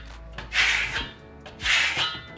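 Steel trowel pressing and dragging coarse Venetian plaster across a board, two close scraping strokes about a second apart, with no voices.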